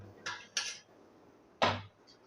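Besan naan being served out onto a plate, heard as three crisp clinks and scrapes of utensil against the dish, two close together and one a second later, each short and fairly near in a quiet kitchen.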